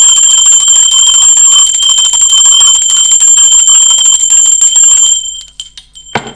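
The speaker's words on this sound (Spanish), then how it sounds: "va campana" A bell rings loudly and steadily with bright, sustained metallic tones for about five seconds, then cuts off, leaving brief faint clatter.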